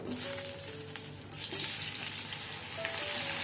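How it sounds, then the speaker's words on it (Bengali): Chopped onion frying in a hot pan gives a steady, moderately loud sizzle, close by and continuous, with a few faint clinks. "এর মধ্যে দিয়ে দেবো হচ্ছে পেঁয়াজ কুচায় রাখছি"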